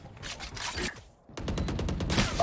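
Rapid gunfire in Valorant, with a short volley, a brief pause, then a tight string of evenly spaced shots, loud and close.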